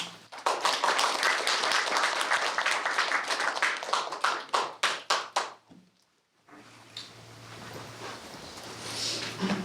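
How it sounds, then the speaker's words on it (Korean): An audience claps to welcome an elderly survivor of the Jeju 4.3 incident: brisk, crowded clapping at first, thinning into a few loud separate claps that fade out, followed by a short silence and then a quiet low room murmur. "큰 박수로 이제 맞이하겠습니다."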